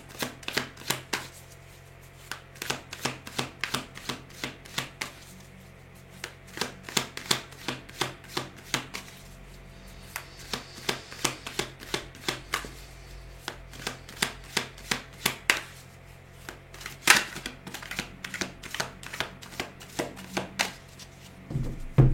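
Tarot cards riffle and snap in rapid bursts of crisp flicks and taps, close and fairly loud, the shuffling pausing briefly between runs, with no talking.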